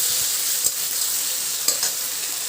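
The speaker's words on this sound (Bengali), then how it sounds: "কড়াইতে দিয়ে দিলাম। দিয়ে দিয়ে একটু ভাজা ভাজা করছি মশলাটা" Steady, loud sizzling of a cumin spice paste frying in a hot wok, with a couple of sharp scraping stir strokes partway through.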